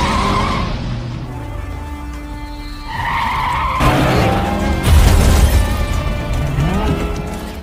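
Cars skid and tires squeal during a film car chase involving a vintage car, with repeated screeching slides over revving engines and crashing impacts, loud and close, with no voices.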